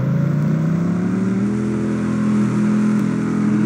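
Lamborghini in a Roblox racing game accelerating hard, its engine note rising steadily and loudly over a few seconds with no other sounds.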